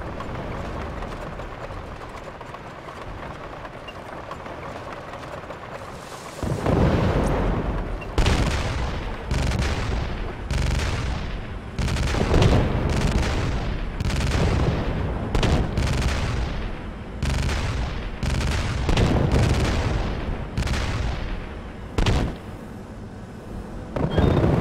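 Explosions and weapon fire from a MechWarrior Living Legends battle: a low rumble erupts into a long run of loud, booming blasts and rapid shots, repeating irregularly close together for about twenty seconds.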